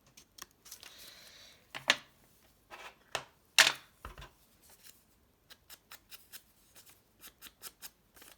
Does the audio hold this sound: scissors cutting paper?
yes